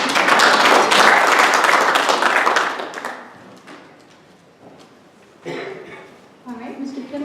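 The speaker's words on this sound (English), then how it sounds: "I think you should all give yourselves a round of applause for coming out on such a cold night." A live audience at a community association forum on a cold night breaks into a loud, dense round of applause for about three seconds, then it fades to scattered claps and murmuring, with a brief swell of voices near the end.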